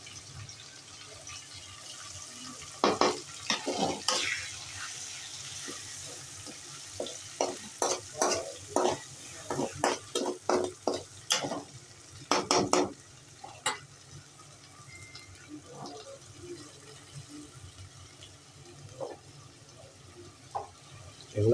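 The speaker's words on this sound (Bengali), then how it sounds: "এগুলো এখন কষাচ্ছি।" Ginger and garlic paste sautéed in oil for a chicken roast, a quiet sizzle punctuated by a rapid series of scraping, clacking stirring strokes from a spatula against the pan.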